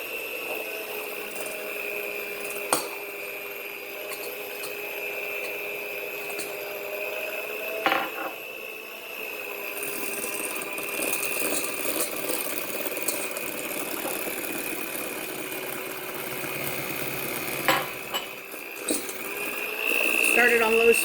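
An electric mixer beating eggs one at a time into a thick brownie batter, a steady motor whine that climbs slightly in speed partway through, with occasional clicks and talking over it.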